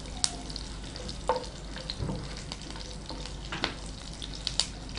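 Chana dal, green chillies and peanuts fry in a pan, a steady crackling sizzle punctuated by sharp pops and spatula scrapes, close and moderately quiet.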